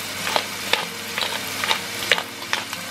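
Carrots and onion frying in butter in a pan give a steady close sizzle, punctuated by regular scraping stirs about every half second.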